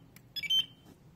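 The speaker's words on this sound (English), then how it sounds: "When the correct barcode is scanned, it will beep once, and the blue light will flash once" An SBS-01 barcode scanner for SMT component reels gives a single short electronic beep after a correct scan. It is clear and close, with faint background noise around it.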